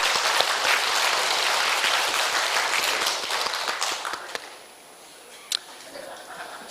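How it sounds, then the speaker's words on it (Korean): A church congregation claps to welcome Jesus, a thick burst of applause with sharp individual claps that thins out and fades after about four seconds, leaving a few scattered claps. "박수로 이분을 환영합니다"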